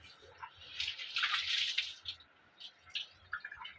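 Water is poured into a pot of beetroot being prepared for a stir-fry, a soft splashing trickle in a couple of short surges, close by and alone without any speech.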